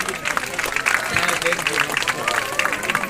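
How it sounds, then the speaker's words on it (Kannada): An audience at a college farewell felicitation for a retiring professor claps steadily and densely throughout, with crowd murmur and voices mixed under the applause. "ಇವರಿಗೆ ಜೋರಾದ ಚಪ್ಪಾಳೆಯೊಂದಿಗೆ"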